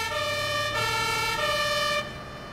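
A fire engine siren in the video game Notruf 112 wails with a steady, pitched electronic tone that shifts pitch twice, then cuts off abruptly near the end.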